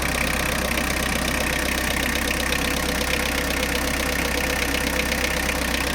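Warmed-up diesel engine idling steadily with a constant low rumble and rapid knocking clatter, close and loud with no voices.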